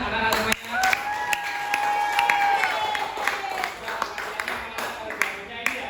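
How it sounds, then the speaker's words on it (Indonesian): Children clapping together in a classroom at the end of a lesson on Asmaul Husna, a scattered round of hand claps with sharp individual slaps under a sustained voice-like tone, moderately close and fairly quiet. "Mungkin kasih tepuk tangan anak-anak semuanya."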